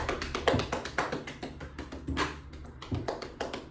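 Fists rhythmically tapping the legs during a qigong self-massage in a chair yoga class, a steady run of close, dull thumps about twice a second, with no talk.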